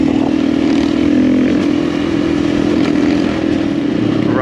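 A motorcycle ridden on Portuguese roads during an amateur rally trip, its engine roaring loud and close and pulling steadily through sustained acceleration with a droning rev and no talking.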